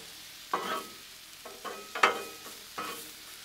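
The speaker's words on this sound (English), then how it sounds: "grab them onions and let's saute them up a little bit too" Onions sautéing on a food trailer grill, with a few distinct spatula scrapes and clanks against the hot metal over a faint background hiss.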